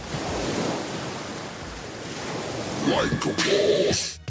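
Giant ocean waves at Waimea Bay on Oahu's north shore roar as a continuous heavy surf wash, swelling into a louder crashing burst near the end, with wind buffeting the microphone.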